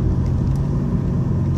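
A BMW E46 fitted with aftermarket headers drives uphill, its engine giving a steady, close, low rumbling drone with no clear revving changes over the short stretch.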